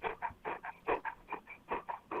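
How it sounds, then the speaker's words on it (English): An English golden retriever pants and whimpers in quick, rhythmic breathy bursts, about ten in two seconds, fairly close and alone. "is that a dog in the background"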